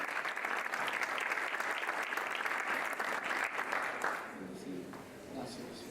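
A church congregation applauds to welcome its apostle, Yasser Rivas, to the stage at a conference session; the dense clapping fills most of the clip, then fades near the end as another sound takes over.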